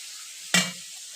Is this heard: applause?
no